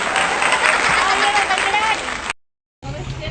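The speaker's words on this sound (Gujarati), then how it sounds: "બધાય તાળીઓ પાડો." A family clapping together at a home pregnancy ceremony, a loud close burst of mixed applause with voices and chatter underneath, cutting off abruptly into silence before resuming briefly.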